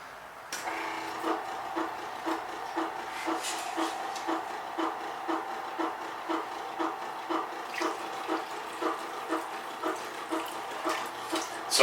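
Water runs from a tap into a makeshift container for a Wen sharpening system, a steady close splashing stream with a regular pulsing rhythm and no talk.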